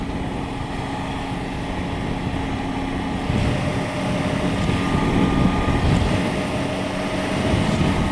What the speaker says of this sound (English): If I get over here, I start getting wind.